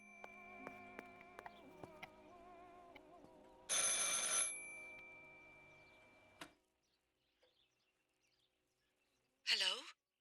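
In the video game Martha Is Dead, a telephone bell rings in a short burst under a faint low hum and soft electronic tones, then later a brief chirp sounds against near silence.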